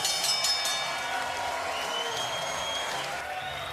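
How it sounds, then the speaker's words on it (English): A crowd applauds two boxers at a North Carolina boxing event just before the scorecards are read, giving a steady, dense wash of clapping that fades slightly toward the end, heard at a distance through the arena. "how about a big round of applause for these two valiant warriors?"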